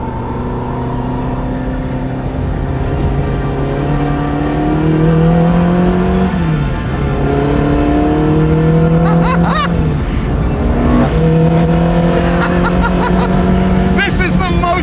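A classic sports car, a Tuthill 911K or Alfaholics GTA-R 290, is driven hard. The engine note starts low and steady, then swells and climbs repeatedly, dropping sharply at each gear change as it pulls up through the revs, loud and close.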